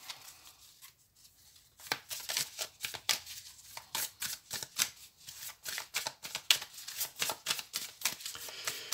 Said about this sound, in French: Je vais effectuer maintenant le tirage avec l'oracle des haïkus.